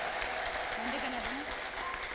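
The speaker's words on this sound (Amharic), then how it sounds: "ጭብጨባ ያላችሁ።" A church congregation claps together in a steady wash of applause during a prophet's service, with a voice speaking over it.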